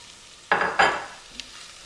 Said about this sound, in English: And we're just gonna mix this together,